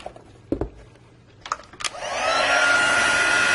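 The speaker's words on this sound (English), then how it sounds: "it's best to make sure that your heat tool is hot before you start" A heat embossing tool clicks and knocks a few times as it is handled, then switches on and blows hot air at vellum with a steady, loud, close whoosh that continues to the end.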